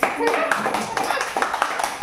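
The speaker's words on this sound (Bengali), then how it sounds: "সুন্দর হাততালি দিয়ে দিই আমরা নিজেরাই" A few people clap their hands in a small home gathering, a short burst of irregular claps with voices talking over them.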